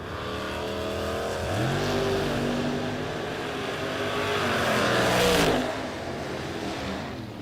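Drag race car launching and accelerating hard at a footbrake drag racing event, a loud roaring engine climbing through rising revs and gear changes, with a second engine wail surging near the end.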